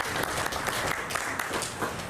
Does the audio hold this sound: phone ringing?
no